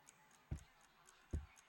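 A wall clock ticks softly at an even pace in a hushed room, its faint regular ticks joined by two duller knocks.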